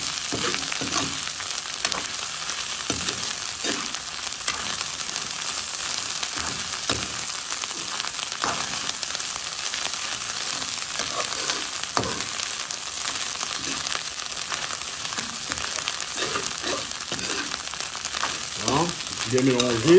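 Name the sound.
stirring tomato into sizzling river fish rougail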